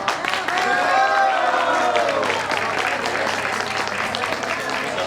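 Devotees at a Jain Panchkalyanak temple ceremony clapping together in steady, sustained applause with crowd murmur mixed in, fairly close and even.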